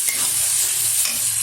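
Chicken curry masala being stirred and fried in a pan, a steady close sizzle with soft scraping stir sounds running throughout, no voices.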